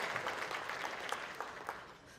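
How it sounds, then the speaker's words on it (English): Faint, brief applause from an audience at a youth awards event, a soft patter of scattered claps over a couple of seconds. "that deserves a round of applause"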